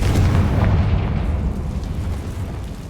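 A Confringo blasting spell goes off in the Hogwarts Legacy video game, a loud sustained rumbling boom with heavy low-end that holds steady for about three seconds and tapers slightly, with no talk over it.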